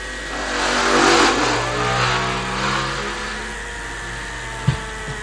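Formula 3 race motorcycles crossing the finish line at a road race, engines droning and rising as they pass at a distance, a steady loud rumble with a sharp thump near the end.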